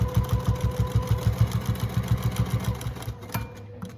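Sewing machine stitching along the outer edge of a quilted trivet made from fabric squares, a close rapid rhythmic whirring that stops abruptly near the end with a small click.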